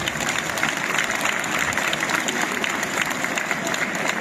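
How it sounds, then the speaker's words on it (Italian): Audience applause for a choir soloist at a choral memorial concert in Nuoro, a steady dense clapping that fills the whole stretch at even loudness with no voices above it. "E noi facciamo un applauso."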